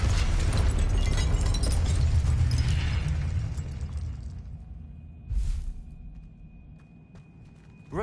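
A fire spell bursts in Hogwarts Legacy with a loud whooshing blast that rumbles, then fades into a quieter tail. A short pop follows, then a thin high tone, and a new burst starts at the very end.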